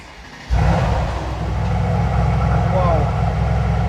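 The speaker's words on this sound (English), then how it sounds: "Listen to the startup of the C63S." A 2019 Mercedes-AMG C63 S V8 fires up with a sudden loud bark, then settles into a deep, rumbling, steady idle close by.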